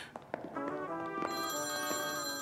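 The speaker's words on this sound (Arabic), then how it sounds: "حبيبي أمير، موبايلي عم بيرن، حطيت لي اياه بجيبتك." A mobile phone rings with a bright, repeating electronic melody in a domestic scene from a dubbed drama series, close and clear with no talk over it.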